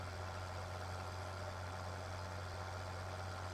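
Tractor engine in Farming Simulator 2013 idling at a steady low hum, a constant drone with no variation and no voices.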